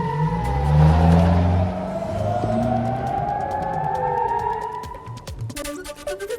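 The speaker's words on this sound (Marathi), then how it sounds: "इराणच्या हल्ल्यानंतर जेरुसलेममध्ये सायरन वाजवण्यात आले" Wailing sirens sound across Jerusalem after an Iranian attack, rising and falling tones sweeping over traffic noise, loud and continuous, with a burst of clattering noise near the end.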